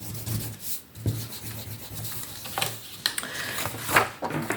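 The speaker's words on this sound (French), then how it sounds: "C'est le moment de gommer les traits." Pencil lines on paper are rubbed out with an eraser during a simple DIY box craft, making soft scrubbing strokes up close with a few light knocks and rustles.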